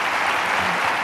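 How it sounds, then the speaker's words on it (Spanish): Audience applause for José María Gay de Liébana, a brief, loud, continuous burst of clapping. "Fuerte aplauso, por favor, para José María Gaidilievana"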